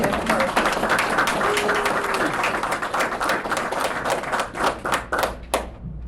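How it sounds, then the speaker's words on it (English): Applause fills a town council meeting as the audience welcomes newly installed officers, steady dense clapping from a crowd that thins into scattered claps near the end. "Give the new officers a hand"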